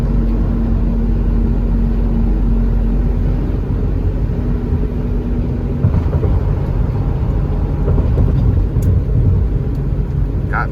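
A 1997 Ford Expedition Eddie Bauer Edition with a V8 and four-speed transmission cruises down a night highway, giving a steady, continuous low rumble with a constant road hum and no talking.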